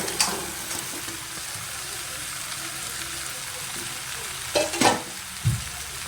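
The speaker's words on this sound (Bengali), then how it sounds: "মাছের মাথা দিয়ে ভালো করে আলুটাকে আমার কষানো হয়ে গেছে" Fish heads and potatoes are stir-fried in a pan with a steady, hissing sizzle throughout, broken by a few louder utensil scrapes and knocks toward the end.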